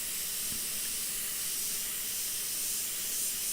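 An old air compressor in a shed hisses continuously, a steady broad rush of air at moderate level with no break and no talk.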